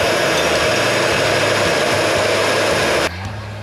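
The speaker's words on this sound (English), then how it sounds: "we got this industrial strength master heat gun" An industrial-strength master heat gun heats the crank pulley of a supercharged NB Miata MX5, blowing a loud, steady, close roar that cuts to a quieter hum near the end.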